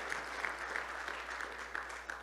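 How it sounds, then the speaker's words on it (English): A church congregation applauding at a Sunday morning service, a steady patter of many hands clapping at moderate volume, continuous for a couple of seconds without voices. "So can we give him a round of applause for Bob Smith, 81 years old."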